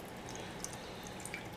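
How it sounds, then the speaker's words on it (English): Pineapple juice trickling into a pan over honey-glazed butter beans, a faint, steady pour with a few soft drip-like ticks, quiet and alone with no voices. "Now, let's pour a little bit of this juice,"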